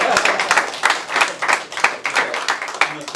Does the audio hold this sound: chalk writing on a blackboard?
no